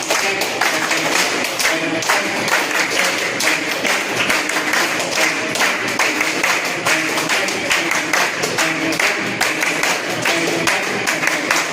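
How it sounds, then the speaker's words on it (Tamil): A crowd at an acupuncture centre graduation ceremony in Puducherry claps enthusiastically together, a loud, continuous stream of close, sharp hand claps lasting throughout. "எல்லாரும் ஒன்று போல உற்சாகம் கைத்தட்டுங்க பார்க்கலாம்"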